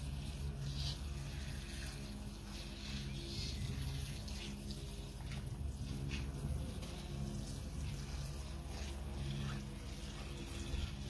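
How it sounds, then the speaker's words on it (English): Water is poured around the roots of freshly pricked-out potted seedlings, giving a continuous, even stream of running and splashing water heard alone for about eleven seconds. "I need to give them water straight away around the roots."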